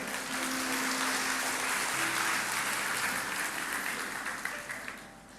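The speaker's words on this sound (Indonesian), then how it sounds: "kasih tepuk tangan untuk orang sebelahnya" A church congregation applauds during a sermon, with steady, dense clapping filling the room for about five seconds before it thins out slightly at the end, and a little voice underneath.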